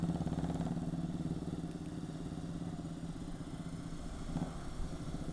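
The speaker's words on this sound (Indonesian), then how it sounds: "Bunyi 2 silinder nih." A two-cylinder custom chopper motorcycle idling with a single-outlet exhaust, a steady, fairly faint throbbing rumble from a short distance, no voices.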